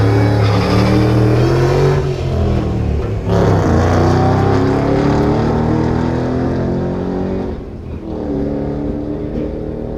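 A red Shelby drag car roars loudly down the strip, its engine note climbing, dropping sharply with each power shift, then climbing again, continuous and close with no talk.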